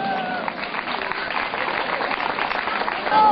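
An audience at a community gathering in Kuyucak, Akseki, Antalya claps steadily in a welcome for an honoured teacher, a continuous, even patter of many hands at moderate distance with no pauses.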